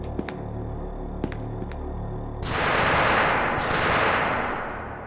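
In a video game, a few sharp isolated clicks and shots are followed by a loud, sustained burst of rapid automatic gunfire aimed at an enemy, which briefly dips and then continues to the end.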